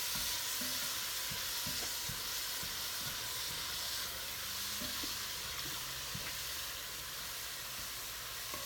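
Ground beef fries in a pot for nacho soup, a steady close sizzle and hiss with occasional low scraping stir sounds beneath it.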